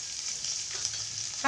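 Chickpeas fry in hot oil with a steady, close sizzle, and a louder crackling burst rises at the end as curry leaves go into the pan.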